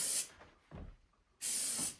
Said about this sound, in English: Now we spray the toilet.